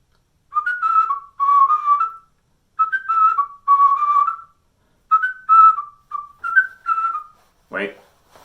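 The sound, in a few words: person whistling a tune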